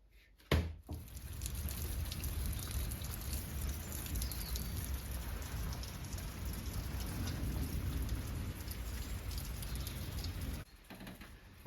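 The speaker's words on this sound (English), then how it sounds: "We've just been through a massive storm" Heavy rain pours steadily and loudly for several seconds on a smallholding, with low thunder rumbling underneath; it cuts off abruptly near the end.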